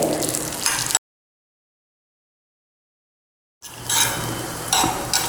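Dry fruits frying in ghee in a pan for sweet modak, a soft sizzle with light stirring and utensil clinks, cut by a long stretch of silence in the middle.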